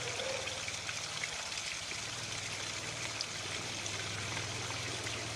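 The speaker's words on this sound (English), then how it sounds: "I just turned the waterfall on." A small garden waterfall spills over rocks into a pond among trees, giving a steady, close splashing and trickling flow with a low hum underneath, no voices.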